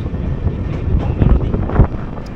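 The Humsafar Express crosses the Nasipur bridge at night, with a loud, rumbling roar of wheels and carriages that swells and pulses throughout, and wind buffeting the microphone.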